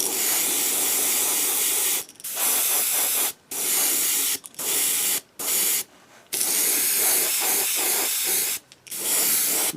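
Paint sprays onto a fishing lure in a row of close, loud hissing bursts, each lasting one to two seconds and separated by short gaps.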